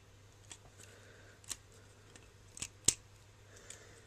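Plastic Transformers toy parts from a Human Alliance Skids figure folding and pegging together, heard as a handful of sharp, close clicks and snaps scattered over a quiet background, with the loudest snap near the end.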